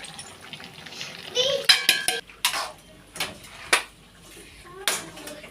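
A spoon stirs turmeric and chilli powder in a metal pot, giving sharp clinks and scraping knocks in uneven bursts, with soft voices and splashy kitchen noise in the background.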